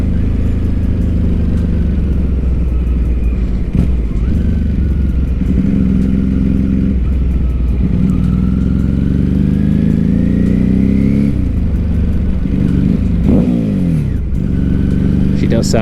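A 2006 Ducati 749 motorcycle engine running on a ride, a steady mid-pitched drone with revs rising and falling, heavily mixed with constant low rumble and road or wind noise.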